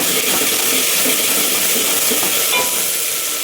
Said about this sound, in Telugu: ఒక 2 నిమిషాలు వేగితే నూనెలో బాగుంటుంది